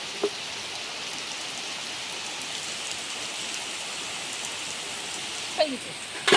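Steady rain falls on garden plants, a dense even patter that holds throughout, with a few brief louder knocks near the end.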